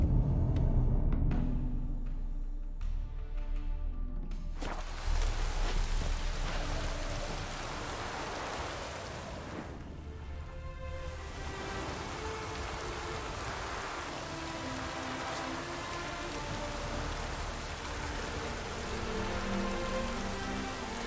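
Rain falling in the video game The Witcher 3, a steady wash of pattering droplets on surfaces that runs throughout, briefly dipping partway before resuming at an even level.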